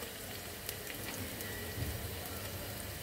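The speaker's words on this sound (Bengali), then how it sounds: "তো চলো পেঁয়াজটাকে একটু সুন্দর করে ভেজে নেই।" Chopped onions fry in hot oil in a wok for Bengali chicken roast, giving a steady, dense crackling sizzle with scattered spits and pops, close and even throughout, with no one speaking.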